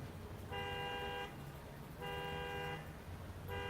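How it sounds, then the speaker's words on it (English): A car alarm sounds its horn in repeated steady tones, three evenly spaced blasts heard at a distance over a constant outdoor background hum near a beach. "Somebody's alarm is going, their horn."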